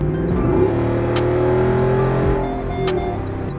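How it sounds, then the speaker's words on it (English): The V8 exhaust of a 2023 Jeep Wrangler Rubicon 392 roars loudly as it accelerates, a sustained throaty growl rising in pitch and easing off, heard alone without talk. "The sound of the V8 roaring in the back, it just makes you hit the gas."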